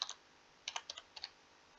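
Quiet, close computer keyboard typing in a few quick clusters of keystrokes, separated by brief pauses, with no talking.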